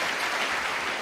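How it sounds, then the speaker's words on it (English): An audience at a Save Soil event in Azerbaijan gives a warm round of applause, a steady, dense wash of clapping filling the short moment with no voices on top. "Let's make a warm applause for our Turala Sadaf and of course our dear Sadhguru."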